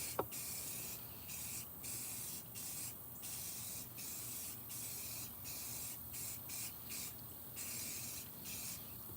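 Faint, steady hiss of an aerosol clear coat sprayed onto cedar wood in short repeated bursts with brief gaps, close by and otherwise quiet.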